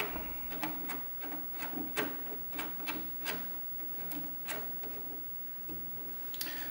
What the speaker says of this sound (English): Screw through the block. I want to tighten it up.